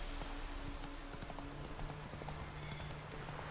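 Hooves of the horse Roach clip-clop in a steady trot in Witcher 3, a continuous rhythmic patter of hoofbeats over a low ambient hum, with no voices.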